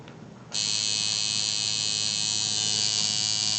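A tattoo machine on a clip cord, run from an American Econ power supply at about 7.5 volts, starts up after a brief quiet moment and holds a steady, loud, high electric buzz to the end.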